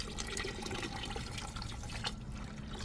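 A POPOSOAP 12W solar water pump sprays a strong, steady stream of water, giving a continuous close rushing and splashing wash that runs evenly throughout without talk.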